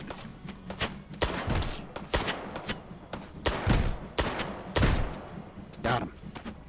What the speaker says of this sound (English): I'm just getting shot.